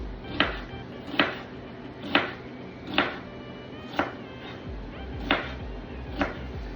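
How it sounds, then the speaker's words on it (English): Onions chopped with a knife on a board, seven distinct, evenly spaced thuds about once a second, close and clear, with no talk. "Now I'm gonna chop up all my onions."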